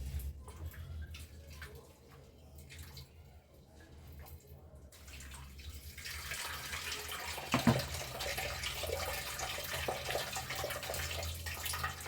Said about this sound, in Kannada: ಒಂದು 2ರಿಂದ 3 ಚೊಂಬು ನೀರಲ್ಲಿ ವಾಶ್ ಮಾಡಿ.